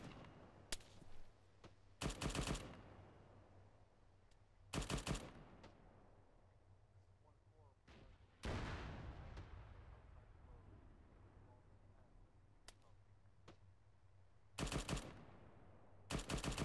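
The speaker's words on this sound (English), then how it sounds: "You're gonna see explosions in the distance" Distant explosions and bursts of gunfire in an ArmA 3 military realism exercise, several sharp loud blasts spaced apart with rumbling tails over a quiet low hum, no talk.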